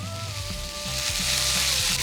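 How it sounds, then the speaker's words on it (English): Vegetables fry in a tablespoon of oil in a pan for a vegan mushroom rice, giving a steady bright sizzle and hiss, while a low tonal hum and faint clatter run beneath it. "our vegetables are now finely fried"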